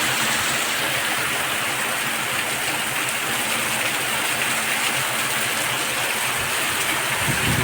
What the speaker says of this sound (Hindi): देख सकते हो कितना ज़बरदस्त बारिश हो रहा है।